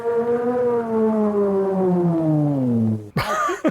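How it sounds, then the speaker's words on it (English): A civil defense style siren in a 1935 film soundtrack winds down, its loud steady tone sliding slowly lower in pitch for about three seconds before cutting abruptly into a brief burst of other noise. "It's a siren winding down"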